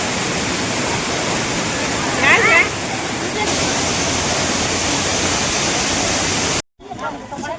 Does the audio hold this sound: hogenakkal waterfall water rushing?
yes